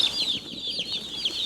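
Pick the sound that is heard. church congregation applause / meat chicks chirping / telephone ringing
meat chicks chirping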